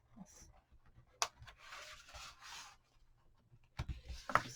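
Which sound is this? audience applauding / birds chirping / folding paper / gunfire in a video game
folding paper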